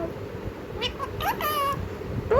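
A pet parrot mimics a cat's meow, giving a few short, nasal meow-like calls up close. The calls rise and fall in pitch over a steady background hiss.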